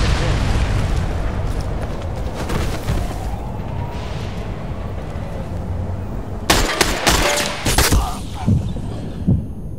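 Gunfire and sniper shots ring out in the tactical shooter Ghost Recon Phantoms, a dense rumbling battle bed broken by a cluster of sharp, loud shots near the end, with a voice talking over parts of it.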